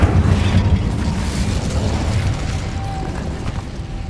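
Incendio fire spell cast in Hogwarts Legacy: a loud, sustained roaring whoosh of flame with deep rumble that slowly eases, close and alone without talk.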